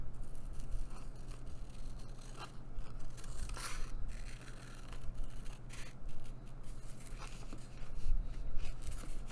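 Steady scraping and snipping of scissors through paper, close and continuous over a low background hum.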